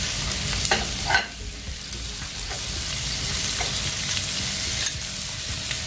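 Ginger-garlic paste with salt sizzles steadily in a pan while a spoon stirs it, with a few light scrapes and clinks, close and continuous, with no voices.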